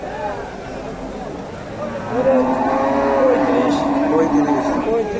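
At a cow market in Dakumara, Bogura, cattle moo in a long, drawn-out, close bellow that rises partway through, with people talking over and around it.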